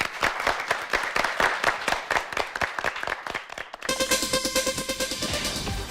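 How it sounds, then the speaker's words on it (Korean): A studio audience applauds two high school debate teams at a televised national assembly debate contest, a steady burst of clapping that shifts partway into a brighter, denser texture with a tonal musical sting rising underneath. "두 팀에게 박수 한번 부탁드리겠습니다"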